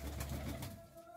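Pigeons kept by a bird keeper coo in a brief, soft, low burble, faint and close, with no talking.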